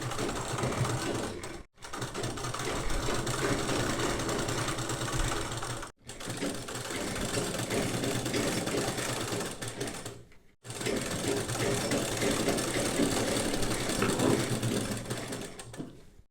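A sewing machine runs steadily while stitching a baby umbrella gown. It whirs loudly and closely in three long continuous runs, with two brief pauses between them and no talk.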